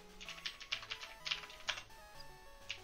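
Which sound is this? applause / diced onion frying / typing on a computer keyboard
typing on a computer keyboard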